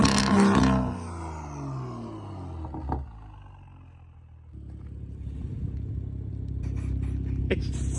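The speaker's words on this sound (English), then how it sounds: "Jay's gonna hit it with some anti-lag real quick." A tuned BMW engine in a video game revs hard with anti-lag, a loud throaty roar that drops off, then builds again, punctuated by sharp pops and crackles.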